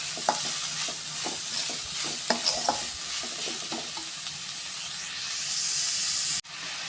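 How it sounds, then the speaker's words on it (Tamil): Six sliced large onions fry in oil in a pan for panipuri: a steady sizzling hiss runs throughout, broken by repeated clinks and scrapes of stirring, and the sizzle swells loudly near the end before cutting off sharply. "கட் பண்ணி வச்ச பெரிய வெங்காயம் ஒரு 6 வெங்காயத்தை சேர்த்து நல்லா வதக்கலாம்."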